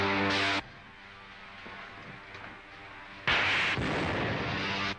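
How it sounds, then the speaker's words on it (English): A spaceship fires in a Buck Rogers radio-serial sound effect. Two loud roaring blasts, one short at the start and a longer one about three seconds later, are separated by a quieter rumbling lull. "Fire a blast into the tail service as I level out."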